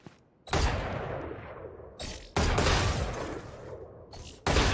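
A strong rifle fires in the video game Valorant, three loud sustained bursts of gunfire with brief gaps between them, close and dominant.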